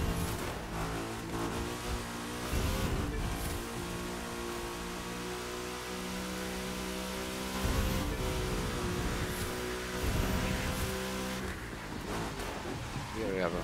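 A car engine in the racing video game The Crew 2 drones steadily and revs up in loud surges as the car accelerates, with a voice talking over it.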